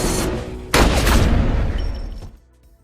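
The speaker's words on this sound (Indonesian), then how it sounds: "Paul memanfaatkan situasi tersebut untuk menembak mati Omar." Gunshots in a film scene: a sharp burst of loud shots, then a heavier second blast with ringing decay that fades away within a couple of seconds.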